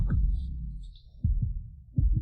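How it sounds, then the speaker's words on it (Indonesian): A fast heartbeat thumps in paired low beats, repeating several times at a quick steady rhythm, close and muffled against near silence. "Napas panas, detak jantung cepat."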